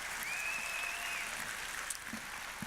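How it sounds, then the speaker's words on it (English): Indoor audience applauding at a business event, a faint steady patter of clapping heard from a distance, with a brief high whistle-like tone near the start. "Let's give them a massive round of applause because this is really rare."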